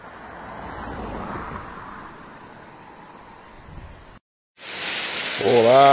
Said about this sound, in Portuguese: muita chuva aqui em Parnamirim, olha aí